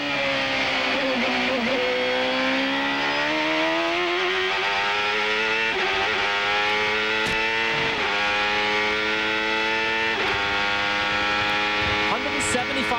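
Onboard a CART race car at the 1995 Portland round, the engine screams at high revs, drops pitch as it downshifts to second gear and then climbs again, loud and continuous throughout.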